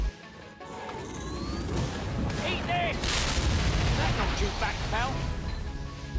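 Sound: Berserker's EMP grenade explosion in video game Killing Floor 2

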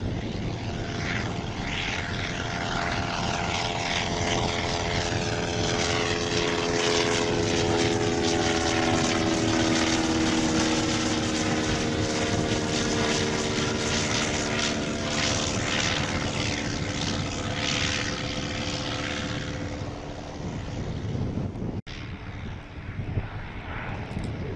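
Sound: vintage Mercedes-Benz aircraft engine

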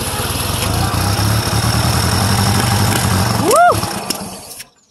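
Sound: Satoh S650G tractor engine running after starting

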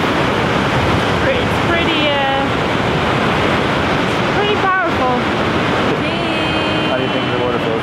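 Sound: Gullfoss waterfall in Iceland

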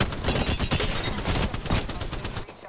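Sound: gunfire in Apex Legends video game

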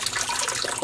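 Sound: pouring dye liquid out of a pot

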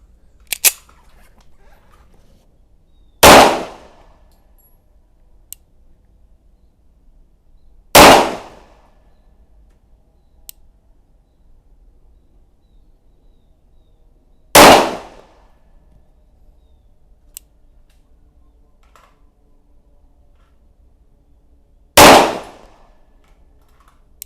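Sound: pistol shots at 15 metres, Colt vs Rock Island

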